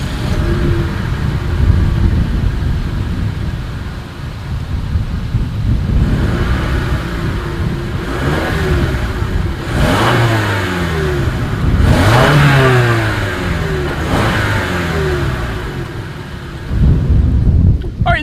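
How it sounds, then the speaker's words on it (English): A 2020 Toyota RAV4 with dual exhaust idles, then revs up and falls back several times in rising and falling sweeps, close and loud, ending in a final throttle blip. "As always, here is that exhaust clip."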